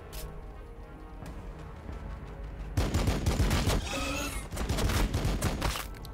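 A dense volley of gunfire in the battle game Warhammer 40K: Battlesector erupts suddenly partway through, loud and sustained over a rumbling war backdrop.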